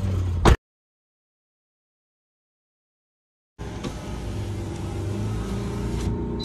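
Car launch in a drag race between a Maruti Baleno and a Honda City, manual gearbox: a brief loud burst, then about three seconds of silence, then a steady close engine roar building under wind noise.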